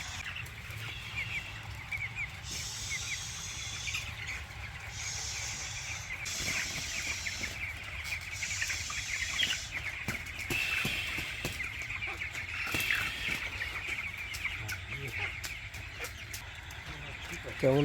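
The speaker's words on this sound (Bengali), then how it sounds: "মুরগিগুলোকে একটু সরাই দিয়ে খাওয়ানোর চেষ্টা করতেছে।" Crowded chickens cluck continuously while being fed late at night on a poultry farm, a busy, overlapping chorus close by with people talking over it.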